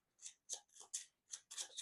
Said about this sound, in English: we're going to shuffle up our these 5 sense cards right here